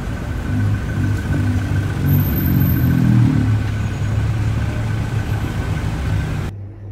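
Bangkok street traffic rumbles on, with car engines idling and droning steadily nearby in stop-and-go conditions, a constant low roar that drops away abruptly at the end.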